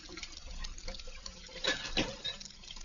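Water runs from a sink tap, a steady broadband hiss with a couple of louder splashing surges partway through, heard close and alone.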